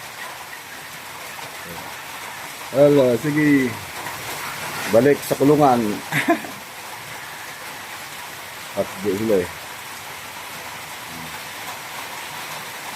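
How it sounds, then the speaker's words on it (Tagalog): Steady rain falls in a soft, constant wash on a rural farm with turkeys, chickens and ducks, with a person speaking briefly and laughing over it. "Ito na nga bumalik yung ulan. No? Lumakas ulit."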